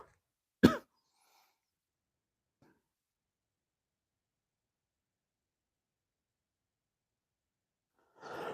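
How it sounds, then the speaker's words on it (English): A single sharp cough from a nearby person, followed by a faint breath and near silence, then a soft rustle of breath or sound at the end. "I still have a little bit of a cough."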